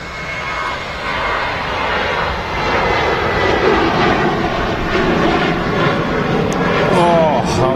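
A Ryanair airliner roars down the runway on takeoff at Manchester Airport, its jet engines loud and sustained throughout, with voices talking over the noise.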